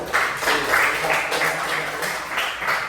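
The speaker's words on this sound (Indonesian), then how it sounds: "Oke, ya, tepuk tangan" Classroom applause from students, a steady patter of many hands clapping at moderate loudness for a few seconds, with some voices mixed in.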